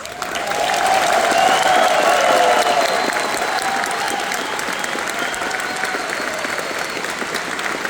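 Sustained applause from a large crowd at the Anthrocon 2025 closing ceremony, swelling quickly and holding steady for several seconds, dense and loud.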